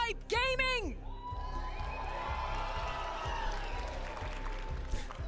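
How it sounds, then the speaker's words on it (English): A live Brawl Stars championship crowd cheers and applauds at a busy esports event, with a sustained roar and scattered shouts rising over the din, while an announcer's voice is heard at the start. "The crowd has been super loud today. Let's hear it one more time."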